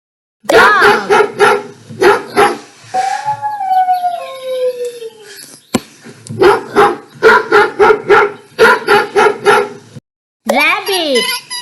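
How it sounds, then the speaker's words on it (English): A dog barks in repeated sharp, loud bursts close by, with a stretch of howling in the middle and more barking after. "dog,"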